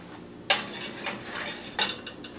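A homemade pizza slid onto the bottom rack of a kitchen oven: two sharp metallic clanks of the pan and rack about a second apart, with lighter scraping and rattling between them, close and alone.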